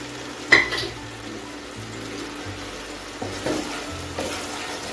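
Eggs drop into sizzling spiced masala with Kashmiri chilli in a pan, giving a sharp splash followed by steady frying hiss and a few soft stirring scrapes.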